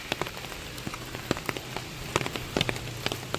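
Rain falls steadily on a nearby surface along a road through dense forest, with scattered crisp drops tapping irregularly over a soft continuous patter.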